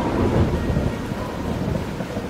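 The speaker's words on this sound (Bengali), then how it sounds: "প্রবল ঝড় শুরু হয়, বিদ্যুৎ চমকাতে থাকে, জানলার কাঁচ কাঁপতে থাকে, প্রথমে 2-1 ফোঁটা বৃষ্টি, তারপর দেখতে দেখতে ভয়ঙ্কর ঝড় বৃষ্টি শুরু হয়।" Heavy thunderstorm with pouring rain for a horror story scene: a dense, loud, continuous roar of rain with deep rolling thunder underneath, steady throughout with no voices.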